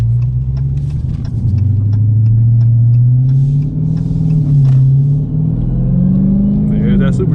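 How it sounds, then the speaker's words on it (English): A 2019 Dodge Challenger Hellcat Redeye's supercharged engine and exhaust rumble close and loud, with a deep, throaty idle swelling into several rising and falling revs. "I'm gonna let this engine and this exhaust do the talking"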